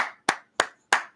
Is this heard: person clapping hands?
yes